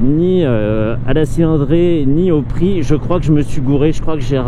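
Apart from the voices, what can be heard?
No everyday noises stand out.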